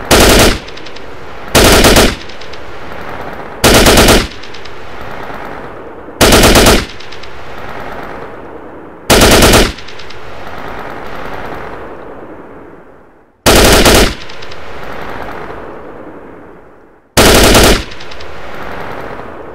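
Loud machine gun bursts in Arma 3, seven short, sharp bursts spaced a couple of seconds apart over a steady rumbling battlefield background, with no talk.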